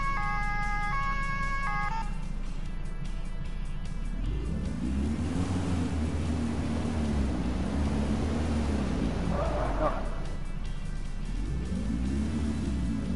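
A wailing police car siren in a video game rises and falls repeatedly over a low engine rumble, preceded by a few electronic beeps, with no talking.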